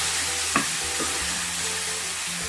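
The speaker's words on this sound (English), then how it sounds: "And you can see that is definitely hotting up that oil. So just going to saute these onions off a little bit." Onions sauté in hot oil with a dense, even sizzle, broken by a brief stirring scrape near the start.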